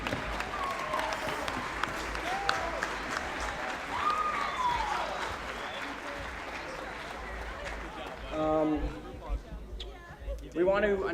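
A crowd at the Strut For The Cure 2019 charity event applauds steadily, then the clapping thins out near the end as people start chattering over it.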